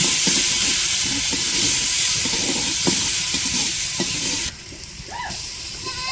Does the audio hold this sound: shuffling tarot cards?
no